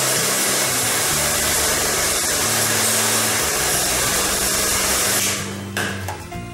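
A heat gun warming a printed vinyl skin, a loud steady blowing roar with a low hum that runs close and unbroken, then cuts off near the end, leaving faint handling clicks.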